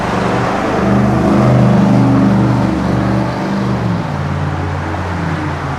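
Road traffic outdoors on a windy day, a loud, close vehicle engine droning steadily, swelling slightly as it passes and then easing off to a lower rumble, with no talk.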